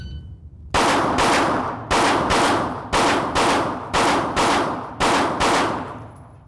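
Handgun shots fired in a live fire drill at 20 yards, topped with a red dot sight, crack loudly in quick pairs and triples with short pauses between strings, each report sharp with a brief decaying tail.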